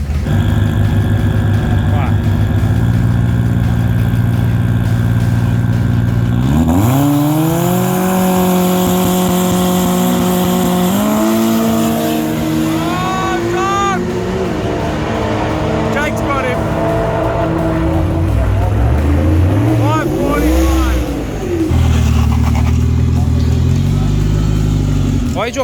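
A small Kenda 660 race kart's engine runs loud and close throughout, revving up and down in rising and falling sweeps with stretches of steadier running, while people talk over it.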